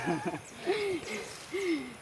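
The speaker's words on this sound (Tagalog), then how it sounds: "Nag-iingay na mga ibon" Soft hooting bird calls, a few short notes and two drawn-out hoots, faint against a quiet outdoor background.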